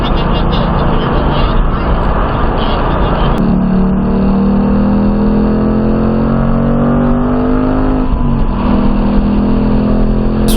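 A Ford Mustang Mach 1 runs flat out on a banked race track at over 100 mph, its engine a loud, continuous roar close by, with pitch shifting as it pulls and rises through the gears.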